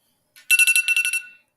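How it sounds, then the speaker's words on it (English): Electronic alarm beeping in a fast burst of about eight pulsed tones, fairly loud and close, with no talking over it. "I can't stand when you have an alarm set and then they just keep on going off"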